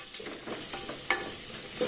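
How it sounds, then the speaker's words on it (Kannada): Coriander and cumin powder masala fries in oil in a pan while being stirred: a brief, close sizzle with soft scraping strokes and a couple of light clinks, with no voices over it. "ಮಸಾಲೆ ಎಲ್ಲ ಚೆನ್ನಾಗಿ ಫ್ರೈ ಆಗಬೇಕು"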